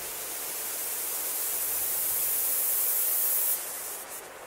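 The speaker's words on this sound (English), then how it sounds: "This white noise has got a pitch shifter on it." Pitch-shifted white noise used as a layer in a music mix, a steady bright hiss that swells slightly and then drops off sharply near the end.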